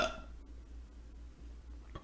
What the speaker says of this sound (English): I feel like a tremendous burp is germinating within my body.